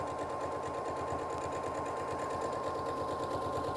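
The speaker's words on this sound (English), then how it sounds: "we're just going to stitch right on this extra line" A sewing machine runs steadily, stitching along a marked line on fabric with a fast, even needle rhythm. The motor whirs continuously and closely throughout, with no voices.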